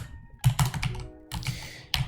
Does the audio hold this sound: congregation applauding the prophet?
no